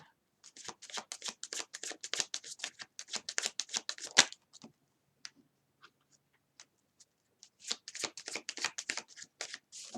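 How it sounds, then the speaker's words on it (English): Tarot cards shuffled and handled close by, quick rhythmic riffling bursts for about four seconds, a near-silent pause with a few soft taps, then another run of crisp shuffling. "Let me take out more cards before I totally decide what's going on here."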